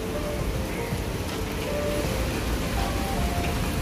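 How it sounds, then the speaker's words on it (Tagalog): Rain falling outdoors in Singapore, a steady, even hiss of drops on surfaces, moderately quiet and continuous, with no voices. "Ano kaya kung ako'y maligo sa ulan?"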